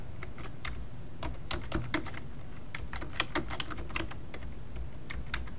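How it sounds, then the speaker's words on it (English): Steady typing on a computer keyboard, with close, crisp key clicks in an irregular patter that runs throughout, no voices. "we are going to type the title bar"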